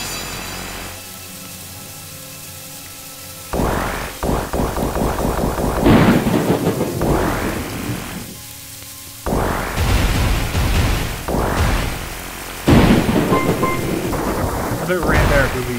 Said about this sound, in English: And now it's raining.